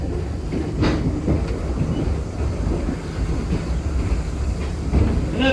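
Train rolling along rails at Greenfield Village, where coal-fired steam locomotives run; a steady, close rumble with a couple of faint rail clicks, no talk.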